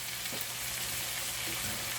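Potato chunks going into a pan of mutton keema frying in oil, a soft continuous sizzle with faint stirring scrapes, quiet and close, no voices.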